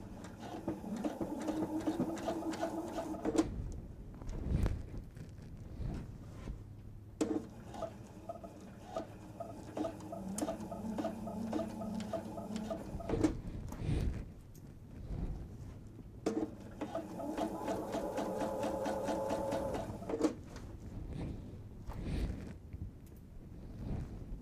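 Domestic sewing machine stitching fabric for a travel tote, a close steady mechanical whir and rapid needle chatter running in long bursts with brief stops between them, no talking.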